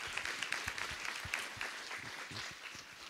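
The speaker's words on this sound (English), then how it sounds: "Big applause." Light applause from a seminar audience after a business talk, a few hands clapping in an uneven, patchy rhythm with individual claps standing out, fairly faint and close.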